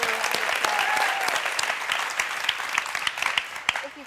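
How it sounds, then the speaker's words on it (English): Studio audience applauds a guest on a talk show, dense clapping that starts strong and gradually thins out toward the end. "Let's give her a round of applause."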